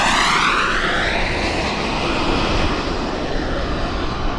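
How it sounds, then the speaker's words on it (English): A jet aircraft's turbine spools up during a low air show pass, a loud roaring rush with a descending whine that fades slightly toward the end. "Listen to that turbine open up."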